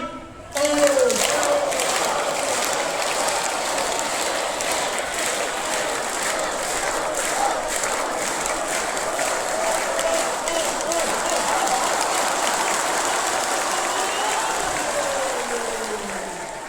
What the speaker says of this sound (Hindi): सबकी ताली एक साथ बजेगी।